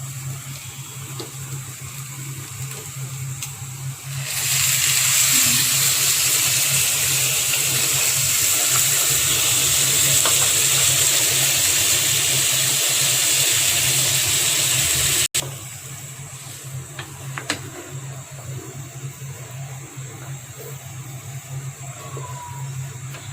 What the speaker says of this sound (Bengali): আমি এখন গরম পানি দিয়ে দিব।